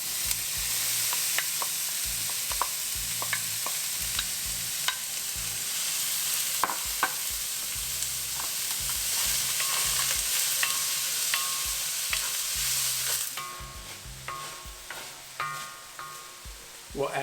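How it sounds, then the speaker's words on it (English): Onion frying in a pan for matar paneer, a continuous close sizzle with frequent spatula scrapes and clicks from stirring, thinning out toward the end. "Now we'll add the onion."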